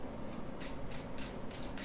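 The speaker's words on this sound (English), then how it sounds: "Alright, so a side shuffle is pretty easy." Plastic tarot cards are side-shuffled close up, with a rapid series of crisp riffling, slapping bursts repeating about every third of a second, loud and alone.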